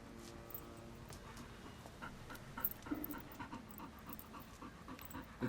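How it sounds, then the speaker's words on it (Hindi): A dog panting steadily with quick rhythmic breaths, close by and moderately loud, against faint background noise with no talk. "कुत्ता है।"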